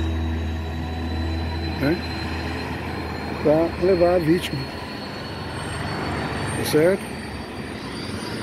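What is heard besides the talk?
helicopter engine starting up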